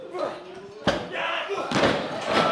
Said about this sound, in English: Shotgun dropkick from the SkyFlyer.